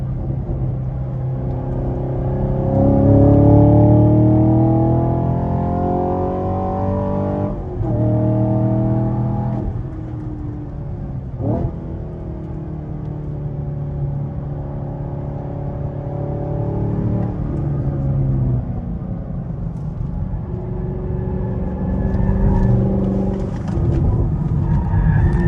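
Chevy Camaro SS 1LE on a race track, its engine revving hard and rising through the gears in repeated accelerating sweeps, loud and close for about twenty-five seconds, with shifts breaking the climb.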